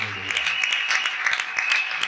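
Church congregation applauding, steady dense clapping throughout, with a voice speaking briefly at the start.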